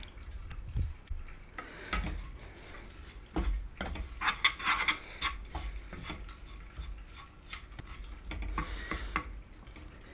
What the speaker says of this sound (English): I'm going to mix them in, and then I'm going to add a cup of beef stock.